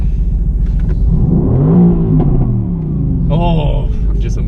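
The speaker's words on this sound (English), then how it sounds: "I'm just amazed with this engine, with everything this is, and this is the AMG GTC" A Mercedes-AMG GTC's engine rumbles and revs loudly up close, rising and falling in pitch, while people talk over it.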